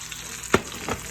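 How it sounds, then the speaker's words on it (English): Steaks frying in a hot pan give two brief, close bursts of sizzling and crackling, about a third of a second apart, over a steady low hiss of fat. "You hear them sizzling, crackling, sizzling."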